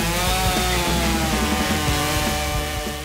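A chainsaw runs loud and close, its engine whining steadily as it cuts through logs at a log home build in Montana, with no talking.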